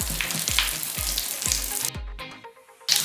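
Scented slime squished by hand in quick repeated presses, each giving a wet crackling hiss that mimics sausage sizzling in a pan, followed by a brief lull and one more squelchy burst.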